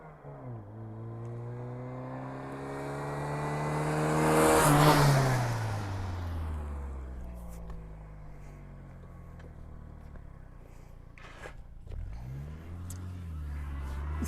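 A Foxbody Mustang with coilovers launches from a dead stop, engine revving and climbing through gears as it pulls away, loudest at the peak of acceleration, then settling into a steadier drone with another rev rise near the end.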